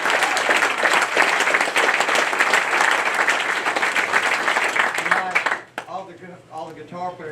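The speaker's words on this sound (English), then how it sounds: "everybody give them a big round of applause" An audience applauds musicians, with a dense, loud and steady roar of clapping lasting several seconds. It cuts off abruptly near the end, and a voice continues alone.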